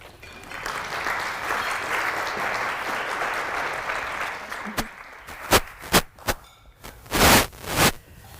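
Applause from an audience at a school breakfast award event, a dense sustained clapping that fills the room, then breaks into a few louder separate claps and bursts toward the end.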